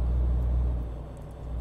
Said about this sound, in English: just the noise of the truck can be a bit boring sometimes